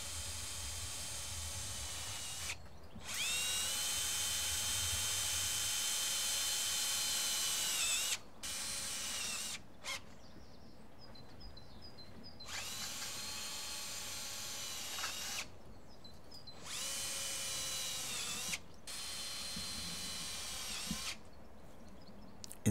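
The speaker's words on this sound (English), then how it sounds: "Secure all joints and P-clips using self-drilled screws, making sure that no screw protrudes past the hoop." Cordless power drill driving self-drilling screws into the hoop joints and P-clips of a polytunnel ridge, a close, loud whine running in several long bursts with short gaps and pitch shifts as each screw bites.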